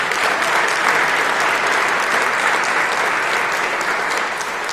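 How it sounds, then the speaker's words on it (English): A crowd applauding at a mayoral inauguration ceremony, steady and loud clapping that holds evenly throughout and tapers only slightly at the very end. "I'd like to give them a round of applause as well."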